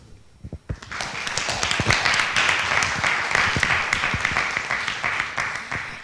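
Applause swells from an audience at a multicultural and diversity center symposium: a few scattered claps, then a sustained, fairly distant wash of many hands that holds steady for several seconds.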